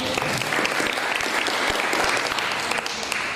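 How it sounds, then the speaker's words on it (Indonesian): Steady applause from an audience at the closing ceremony of a Ramadan pesantren (Islamic boarding school program) in a mosque, continuous, dense clapping filling the whole stretch with no talk over it. "beri tepuk tangan sekali lagi."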